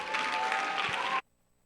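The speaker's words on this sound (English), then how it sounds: "So give them all giant rounds of applause." Audience at a poetry and music open-mic show claps steadily and fairly loudly for about a second, then the applause stops abruptly into near silence.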